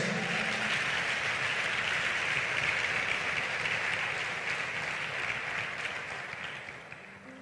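Sustained applause from a church congregation during a Christian sermon: a dense, even wash of many hands clapping that holds steady, then gradually thins and fades toward the close.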